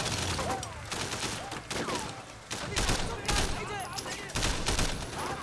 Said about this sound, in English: Can you guys stand near the explodey stuff so I can shoot it